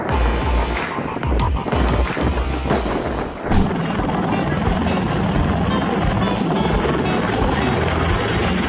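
Helicopter setting down on a yoga mat used as a makeshift landing pad, loud rotor thumping and engine roar up close, with a brief jolt partway through and then steady rotor noise.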